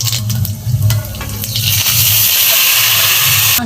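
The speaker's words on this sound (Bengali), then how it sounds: "ফোড়ন করবো।" Whole spices tempering in hot oil in a wok for a Bengali dish, a steady close sizzle that swells into a louder, hissing spatter partway through and keeps going.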